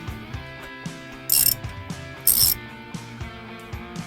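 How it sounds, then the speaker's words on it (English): A ratchet wrench snugging down propeller bolts, a quiet run of steady clicking pawl ratchets in short strokes, with two brief louder metallic scrapes between them. "I'll go ahead and take a wrench and go ahead and snug them down."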